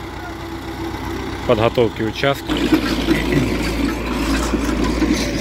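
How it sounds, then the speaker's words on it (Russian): A tractor engine starts up and runs steadily through the second half, a low continuous rumble, after a person talks briefly over the first part while preparing a neglected plot of land. "Погнал трактор."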